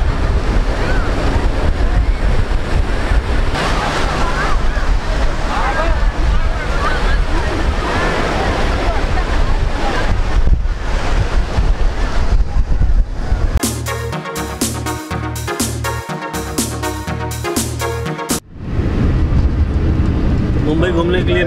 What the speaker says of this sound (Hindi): जो तरंगे उठ रही हैं वेव उठ रही है बहुत ज़्यादा है।